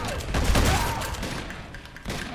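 Uncharted 2 video game gunfire, shotgun blasts mixed into a dense, continuous barrage of shots and rumbling impacts, loud and busy throughout.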